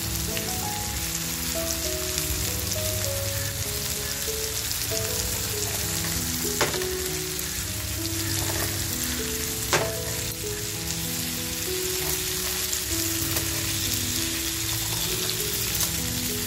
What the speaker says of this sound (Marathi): आता हे आपल्याला जास्त वेळ फ्राय नाही करायचंय, हलकंसं फ्राय करून घ्यायचंय।